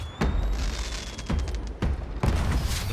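Fireworks in the pirate video game Sea of Thieves burst in a few separate booms, each a sharp crack with a short crackling tail, moderately loud against ambient game noise.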